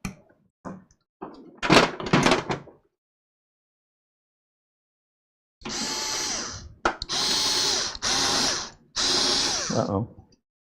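Power drill driving the final screws into a retro 1980s-style PC case, heard up close as several short whirring bursts separated by pauses, with a few brief knocks and handling sounds between them.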